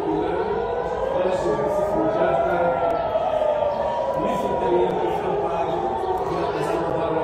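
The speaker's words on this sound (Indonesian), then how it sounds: "sirine berbunyi memekikkan telinga karena terjadi serangan" An air raid siren wails, rising and falling in long sweeping tones, loud and sustained, with crowd chatter and voices underneath.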